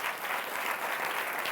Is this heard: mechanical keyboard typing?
no